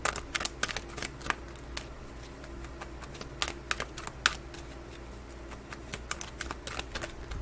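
Angel guidance cards being shuffled, a quiet run of crisp riffling snaps and flutters repeating irregularly at close range over a low steady hum.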